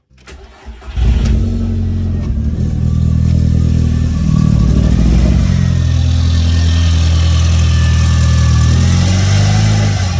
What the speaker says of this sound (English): that little rev there, that was it revving on its own